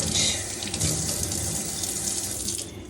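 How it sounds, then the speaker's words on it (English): Tap water runs steadily from a faucet into a sink, rinsing out a used Ziploc bag, a loud continuous splashing stream with no voices. "Now we're going to do a rinse, and then we're going to throw this away."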